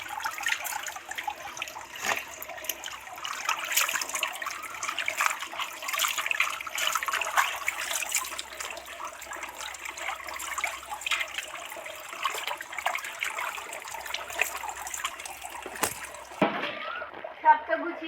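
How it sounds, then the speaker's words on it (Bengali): Pumpkin and Malabar spinach leaves washed by hand in water, with continuous close splashing and dripping that stops near the end, under a voice talking. "পাতাটা একদম পরিষ্কার করে ধুয়ে নেব পাতাগুলো একটা একটা করে পরিষ্কার করে"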